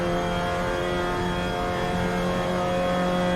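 A race car engine on the Mosport (Canadian Tire Motorsport Park) circuit holds a steady, loud, buzzing drone as the driver feeds in throttle exiting a corner, with no talk over it.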